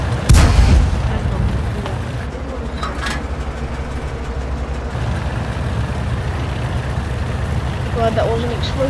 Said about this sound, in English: That was an explosive bullet.